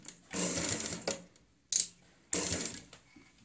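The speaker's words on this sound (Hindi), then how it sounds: "ऐसे सिलाई लगाएंगे" A sewing machine stitches piping onto a kurti neck in three short runs, the first longest, with brief pauses between, close and fairly loud.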